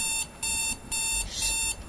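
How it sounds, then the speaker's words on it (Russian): An electronic alarm clock beeps in rapid bursts, repeating steadily in a quiet room with no one speaking. "это будильник"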